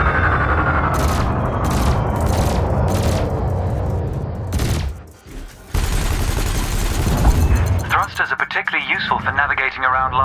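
A ship's cannons and lasers fire in Elite Dangerous in a rapid volley of repeated blasts and booms, a brief pause, then more firing and electronic effects, with a voice talking under it.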